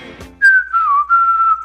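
A man whistles a short tune, a few clear sustained notes with slight pitch glides and a brief break, close and fairly loud, after a faint rustle.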